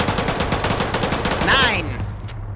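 Rapid bursts of video game gunfire crackle in a quick repeating rhythm, loud and close, with a brief sweeping effect near the end as the shooting trails off.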